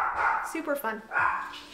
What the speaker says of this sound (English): Sorry about the barking dog upstairs,